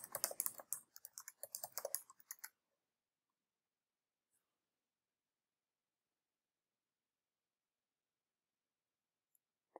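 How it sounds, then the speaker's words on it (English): Keystrokes on a computer keyboard as a username and password are entered, a quick close burst of clicks for about two seconds, then silence. "And then type in your username and password"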